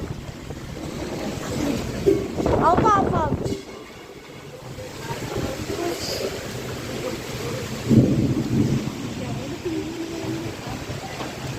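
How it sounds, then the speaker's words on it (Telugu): Windstorm in Eluru with thunder and rain, a loud rumbling roar of wind and downpour that swells and eases, with a person calling out over the storm. "గాలి తుఫాన్ ఏపీ ఏలూరులో వస్తుంది."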